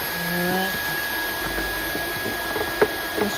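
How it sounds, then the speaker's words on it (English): A vacuum cleaner cleans out the air filter housing of a 2017 Audi A4 B7, giving a steady, close whining hum with a thin high tone and a few soft knocks and bumps near the end. "now I got a vacuum cleaner. I'm gonna clean it."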